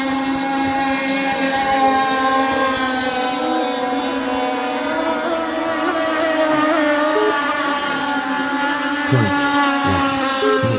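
A Black Mamba RC boat racing on a Florida lake, its small motor giving a loud, steady, high-pitched buzzing whine that holds close and continuous throughout with slight shifts in pitch.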